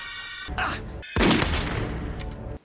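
A gunshot scene from the 2001 war film Enemy at the Gates, with a sharp loud burst of gunfire-like impact and crackling noise following a brief tonal passage, sustained until the end.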